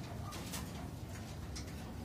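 A racing pigeon coos softly and repeatedly at close range, low murmuring calls over a faint background.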